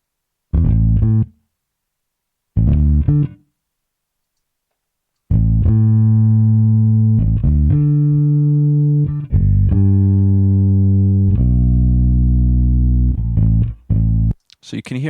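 Slowed-down music track played through Ableton's granular warp at a larger grain size, sustained tonal bursts breaking into audible choppy grain separation, with short stabs, gaps, then longer stuttering held passages ending in a noisy burst.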